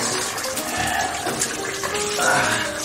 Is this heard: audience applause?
no